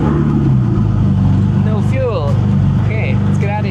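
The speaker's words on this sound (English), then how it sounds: "Cold start." A Porsche engine starts from cold on a car being revived, a loud steady idle rumble throughout, with a voice talking over it partway.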